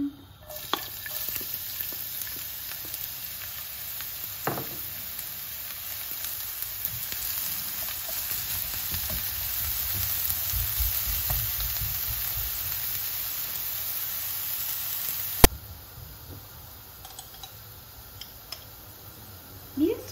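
Onion fries in olive oil with a steady, soft sizzle under occasional stirring clicks and spatula taps, then a sharp clack near the end.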